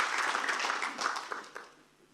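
Audience applause at a live Urdu dastangoi storytelling performance, a brief dense patter of clapping that thins and fades away over about two seconds.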